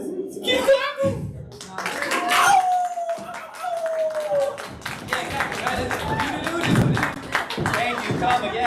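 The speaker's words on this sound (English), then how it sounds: "Keep clapping." An audience claps and cheers steadily, with a few voices calling out over the applause.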